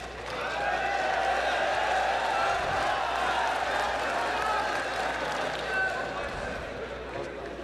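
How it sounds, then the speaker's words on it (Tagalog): A rap battle audience at the Dos Por Dos 2024 finals comes alive, a loud sustained roar of cheering and clapping that swells steadily across the hall and stays dense throughout. "Biglang nabuhay yung crowd eh"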